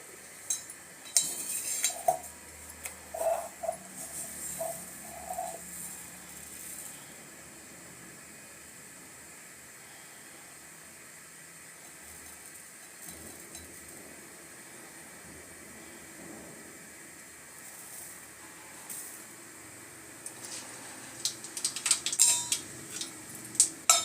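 Brinjal and curry leaves fry in hot oil, producing a faint, steady sizzle dotted with small crackles and pops, busier at the start and end.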